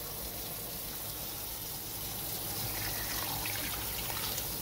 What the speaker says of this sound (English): I get it, you know, water, but how much water should I add?